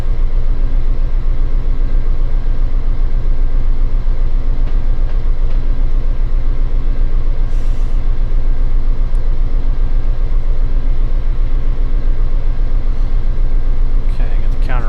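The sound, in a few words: CSX freight train running in Run 8 train simulator video game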